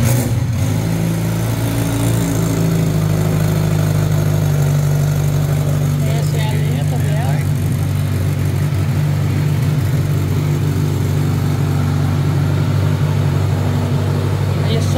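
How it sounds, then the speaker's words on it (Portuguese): A 2013 Z1000 sport motorcycle engine runs loudly and steadily throughout, a deep throbbing idle with slight revving, with people talking over it. "agora a gente vai dar uma partida nela para vocês verem o ronco dessa nave"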